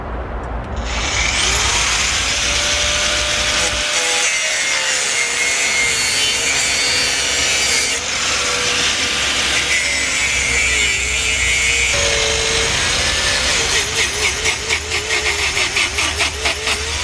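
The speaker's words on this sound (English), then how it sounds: "I'm going to try and use an angle grinder to cut through the metal" An angle grinder cuts through metal embedded in a tree stump, its loud, close, continuous whine shifting in pitch as it bites and scrapes, with no talking.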